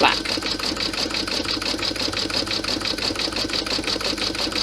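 An embroidery sewing machine stitching an outline through black vinyl held in a hoop, a steady rapid mechanical chatter running continuously and fairly close throughout.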